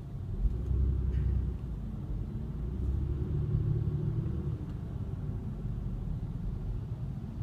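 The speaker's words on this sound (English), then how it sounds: "So you can see I'm sitting in traffic" A car idles in stop-and-go traffic on a rainy, drizzly day, giving a steady low engine rumble and road hum heard from inside the cabin, with no voices over it.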